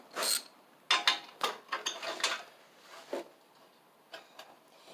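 A socket wrench ratchets in short, faint bursts of clicking close by, in irregular spurts with brief pauses, on a Snapper Hi-Vac mower.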